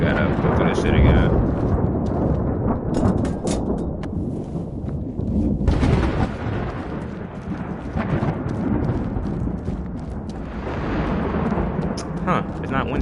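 Deep rumbling thunder rolls through a stormy scene in the video game Stray Souls, swelling into loud broadband crashes around the middle and end over a constant noisy ambience, with a voice talking underneath.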